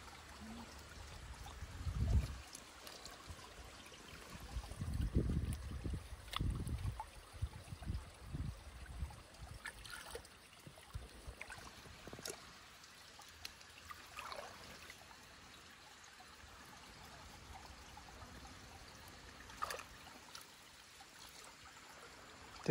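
Water from a stream, at a spot where crabs are being caught, flows past with a faint, steady rushing hiss. A few soft low thumps come early on, and no voices are heard.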